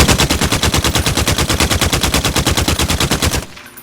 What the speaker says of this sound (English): Again, 30 rounds downrange, same distance.